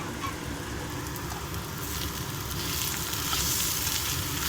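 Curry leaves, green chillies and chilli powder fry in hot oil for potato curry, a steady, close, fairly loud crackling sizzle that runs throughout and swells slightly toward the end, with no talk.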